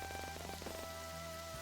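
Rain patters steadily in the visual novel game 14 Days With You, a soft, even hiss of drops running beneath sustained background music tones, quiet and without voices.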